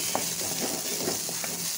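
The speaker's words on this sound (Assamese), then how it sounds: "ধুনীয়াকৈ মই ভাজি লৈছো পিয়াজ তেলতে" Onions frying in oil previously used for frying fish, a steady close sizzle with faint stirring scrapes and no talking.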